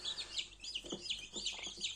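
Spanish breed chicks in incubator trays inside a Teplusha incubator, giving repeated high, thin peeps and soft clucking calls, fairly close and continuous, with a few lower scratchy rustles mixed in.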